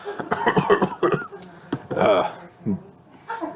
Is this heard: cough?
yes